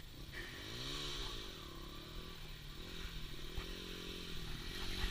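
A slow dirt bike's motor revs hard and steadily throughout, its pitch rising and falling, with a brief spoken remark over the engine noise.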